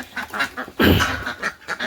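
Farmyard geese and ducks, about three large geese among Chinese ducks and common ducks, honk and quack in repeated overlapping bursts, with one louder honking stretch near the middle, fairly close and with no talking.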